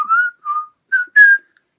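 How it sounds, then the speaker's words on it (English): A person whistles a short tune of four clear, pure notes, the last one longest and loudest, sounding close and alone with no talk. "Can you whistle?"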